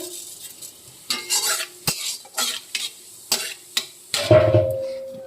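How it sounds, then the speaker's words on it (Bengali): Whole cumin seeds hit hot oil in a pan while cooking rupchanda fish, giving a soft crackling sizzle under a series of sharp stirring and utensil clinks, ending with a brief louder clatter. "আমি এই তেলে এবার জিরে ফোড়ন দিয়ে দেব"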